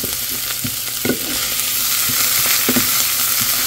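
Minced meat (keema), already boiled and nearly cooked, fries in a hot pan with a steady broadband sizzle, punctuated by several sharp spatula scrapes and taps spread irregularly through the stretch.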